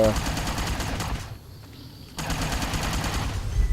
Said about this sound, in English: somebody's shooting something down there